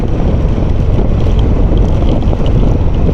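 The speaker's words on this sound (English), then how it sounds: "It's even gusty" Strong gusty wind buffets the microphone outdoors in rain beside an Indian Chieftain 2022 motorcycle, a loud, continuous roaring rush with no pauses.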